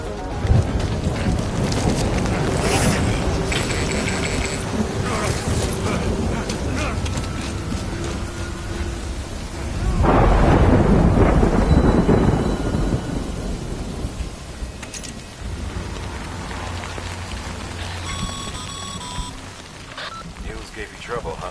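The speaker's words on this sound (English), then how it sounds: "Good thing it was raining." Heavy rain and rolling thunder from a stormy scene in the video game Death Stranding, a steady downpour with a loud thunder swell near the middle; mechanical creaks and background voices sit within the storm.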